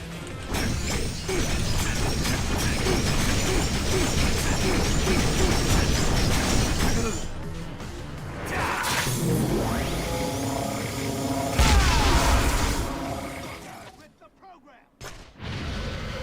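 Grenade blasts in a shooter video game, loud crashing bursts and rumbling mixed with gunfire-like noise and voices, swelling and fading across the stretch with a brief near-silent gap toward the end.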